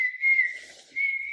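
A single whistle blown in two steady, shrill blasts with a short dip between them, close and clear with no talk.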